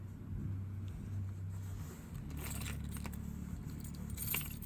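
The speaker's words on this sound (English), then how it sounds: "Alright, go ahead and turn it." Car keys jangling as the key is turned in the ignition of a car that won't start, a faint metallic rattle over a low steady hum, with no engine catching.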